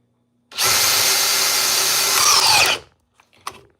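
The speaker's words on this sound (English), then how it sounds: "let's drive this lag bolt here. 3/8 by 5-inch lag." Ryobi power drill driving a 3/8 by 5-inch lag bolt, a loud steady motor whine lasting about two seconds before stopping abruptly, followed by a few faint clicks and handling noises.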